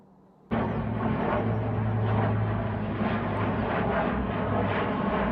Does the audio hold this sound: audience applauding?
no